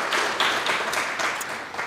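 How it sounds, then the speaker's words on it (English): Applause from the audience at a ScholarTalks student presentation event, a dense, steady wash of clapping held at an even level for the full stretch with no voices over it. "let's give them another round of applause"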